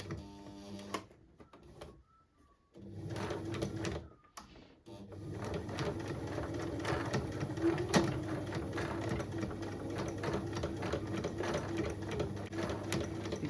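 A sewing machine fitted with a thick needle stitches through heavy tote bag material and a thick seam, running in steady continuous bursts after a short pause near the start, close and fairly loud.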